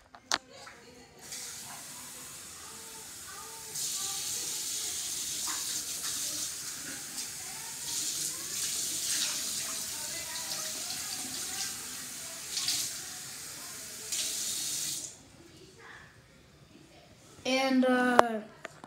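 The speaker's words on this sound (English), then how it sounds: "You have to fill it up with water." Water runs from a tap in several bursts, a hissing splash that starts and stops, with quiet moments between and a short voice near the end.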